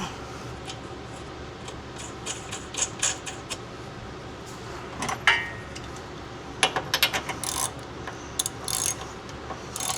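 A ratchet clicks in short irregular runs while tightening a castle nut on an adjustable control arm of a Mitsubishi 3000GT, close and fairly crisp against a quiet garage background.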